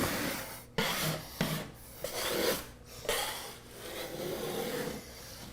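A blade scraping wallpaper off a drywall wall, held nearly flat against the surface, makes a steady rasping rub in repeated strokes with short breaks between passes.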